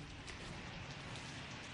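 Steady rain falls during an outdoor news report from a protest in Greece, a dense even hiss with no voices.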